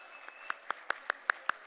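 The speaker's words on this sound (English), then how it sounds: "another big round of applause for Ambassador Ophir Akunis" A single person claps about seven times at an even, moderate pace at a gala, each clap sharp and fairly close against a quiet room.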